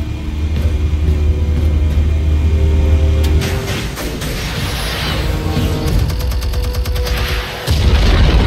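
Explosives detonate in the Batman Telltale video game: a heavy low rumble gives way to a burst of booms and crackling debris, loud and continuous, with a sharp final blast near the end.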